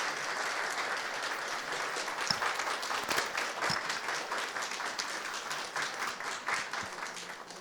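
An audience at a life skills seminar applauds warmly in a sustained, even round of clapping that stays fairly steady and moderately soft throughout.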